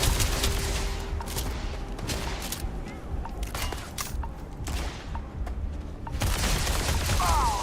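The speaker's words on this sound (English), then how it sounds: "Grenade." A grenade blast and gunfire in the sci-fi shooter Starfield: a fusillade of shots and booming bursts runs through the clip, with sharp cracks and a loud return of noise near the end.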